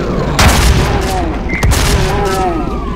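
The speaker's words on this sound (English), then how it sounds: "Of course, blew up another barrel there." Video game barrel explosion: a couple of booming bursts with debris and crackle over a busy game soundscape, plus a sharp burst near the middle, moderately loud.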